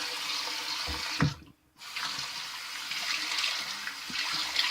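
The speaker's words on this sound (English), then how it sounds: "cold water rinse" A bathroom tap runs steadily for a cold water rinse while shaving with a vintage 1966 Gillette Super Speed razor, a close hiss of flowing water that briefly cuts out for a moment before resuming, with faint splashes and handling sounds.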